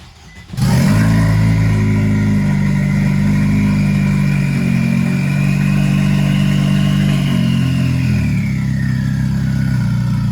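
A Nissan Juke competition car with a hood-exit exhaust and two-step fires up abruptly and idles loud and close while backing out, a deep, steady, rumbling drone that holds with slight pitch shifts, no voices over it.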